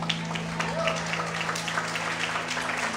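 A church congregation claps and cheers in a continuous scattered wash under a low steady hum, with voices calling out within the crowd.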